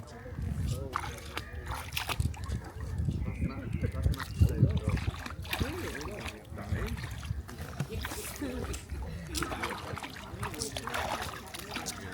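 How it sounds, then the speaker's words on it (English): A dog splashes around in water outside on a sunny day, giving irregular sloshing and splattering bursts close by, while people talk over much of it. "Gonna let Kiwi have a splash around in the water"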